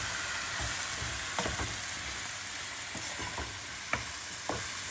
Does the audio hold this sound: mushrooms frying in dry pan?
yes